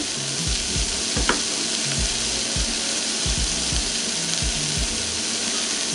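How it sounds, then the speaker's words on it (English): Onions sauteing in a pan give a steady, fairly loud sizzle with faint stirring clicks and scrapes, continuous and close with no talking. "So we'll let this saute and cook down until your onions are translucent."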